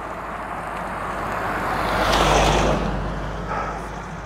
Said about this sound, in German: Gerade schon ein Roller, jetzt wieder ein Auto.